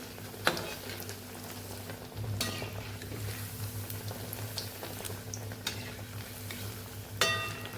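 Poha cutlets fry gently in a pan over medium heat, a soft continuous sizzle with occasional sharp clicks and taps of a spatula, quiet and close with a faint hum underneath.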